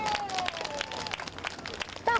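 A crowd claps at a stage event during an arts week, fairly quiet and uneven bursts of applause heard beneath a narrator's voice.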